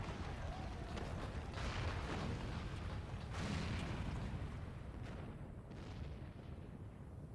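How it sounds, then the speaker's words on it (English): A castle tower in Final Fantasy XIV crumbling after cannon fire, a long roaring rumble of collapse with surging bursts, heavy and continuous but fairly distant and low in level. "did you see that? The main tower just collapsed."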